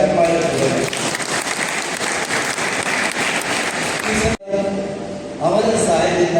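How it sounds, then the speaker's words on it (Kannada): An audience at a birthday gathering applauds loudly in a continuous roar of hands for about four seconds. The clapping then cuts off abruptly and is followed by quieter room sound. "ಆದ್ಮೇಲೆ ಇವರೆಲ್ಲರಿಗೆ ನಾವು ಜೋರಾಗಿ ಚಪ್ಪಾಳೆ ಕೊಡೋಣ"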